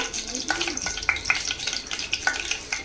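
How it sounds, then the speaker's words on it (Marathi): Mustard seeds temper in hot oil together with curry leaves as the base for a prawn curry. A close, bright sizzle is broken by sharp pops and irregular crackling bursts, and no voices can be heard. "आपण याच्यामध्ये मोहरीची फोडणी देऊया"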